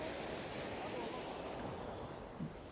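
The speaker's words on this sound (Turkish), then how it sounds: "O dalga şu andaki dalga da." Sea waves break on the shore during a sea bream fishing trip, a continuous loud rushing wash of surf with wind noise that keeps going throughout.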